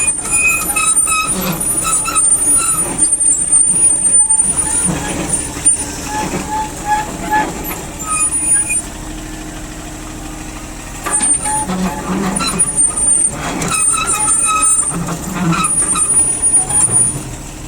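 A Japanese mini excavator with a 0.01 cubic metre bucket runs its engine and hydraulics, with a loud mechanical drone, squeals and whines, and shifting bursts as it moves and works its boom.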